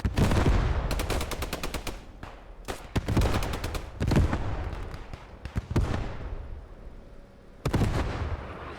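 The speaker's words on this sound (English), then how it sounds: "The MG42 tank rounds, artillery. It is just tearing the infantry up." MG42 machine gun bursts and artillery fire during a beach landing in the World War II game Squad 44, loud rapid rattling volleys broken by heavy booming impacts, dense and continuous throughout.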